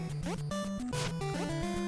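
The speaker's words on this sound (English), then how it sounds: "Well, that's the sound of the collapse of some of the desert." Bugs Bunny Birthday Blowout video game effect for a collapsing desert, a fast sequence of chirpy electronic bleeps and short rising tones over noisy bursts, loud and brief.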